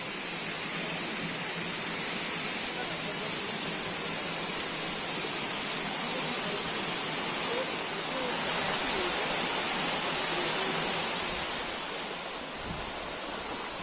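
The Ciorok waterfall near Bogor roars as a steady, broad wash of falling water close by, continuous and unbroken throughout with only slight swells in loudness.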